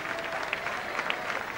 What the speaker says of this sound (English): A nice round of applause for the lady as she comes out.